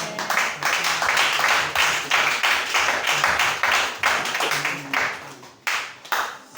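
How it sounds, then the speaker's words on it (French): A church congregation at a Friday service at the Branham Tabernacle claps loudly and steadily, a dense wash of applause that pulses and swells before thinning into scattered final claps, with faint voices beneath. "Acclamez très fort"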